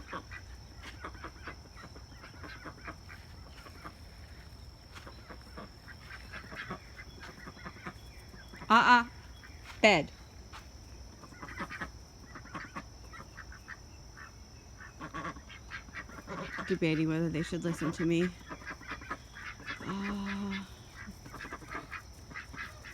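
Ducks and geese honk and quack intermittently in a backyard garden at evening, with a few loud close bursts and scattered calls, while someone talks over the birds.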